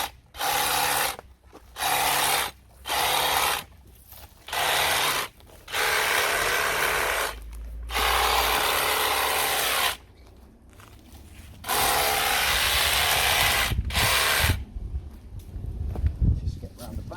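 Lavender stems being cut about an inch below the flower heads during pruning, producing a run of repeated rustling, scraping cutting strokes in roughly one-second bursts with short pauses between them, close up.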